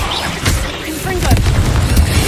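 Confringo spell exploding in Hogwarts Legacy, a loud rumbling boom with crackling bursts, mixed with a voice shouting the spell.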